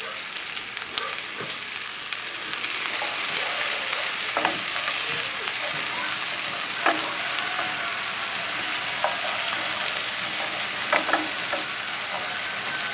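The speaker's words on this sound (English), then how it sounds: "after a few minutes of sauteing this, I'll add the tomatoes and the mushroom" Vegetables sauté in a pan with butter over a moderate to high flame, giving a loud, continuous sizzle with a few light utensil scrapes and taps.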